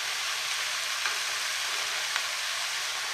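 Mushrooms go into a pan with softened cabbage for a vegetarian stuffed cabbage, a steady, even sizzle of frying that holds at a constant level throughout, with a couple of faint clicks and no voices.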